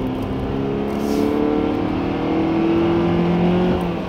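A 2016 Honda Accord accelerates hard at full throttle, its engine note climbing steadily in a continuous buzzy drone that stays loud and close for the whole stretch.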